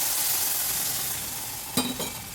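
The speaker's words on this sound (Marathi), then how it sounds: "हे झाल्यानंतर याच्यात आपल्याला हे उकळलेलं पाणी घालायचं" Steady hissing sizzle of semolina upma frying in oil, then a sudden louder burst of spitting and bubbling as boiled water is poured into the hot pan, with no voices.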